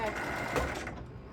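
A sewing machine back tacks a seam on a zipper pouch, a short whirring stitch burst that slows and fades in just over a second.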